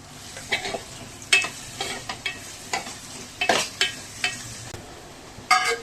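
Onions being stirred as they fry in a pan for a fish gravy, a steady soft sizzle under a run of irregular scraping spoon strokes, close by and without talk.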